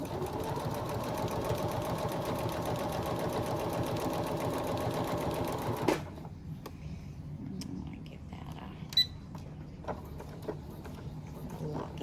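Sewing machine stitching a lavender sachet, running steadily at a rapid rhythmic hum for about six seconds and then stopping abruptly, followed by quiet fabric handling and faint clicks, close up.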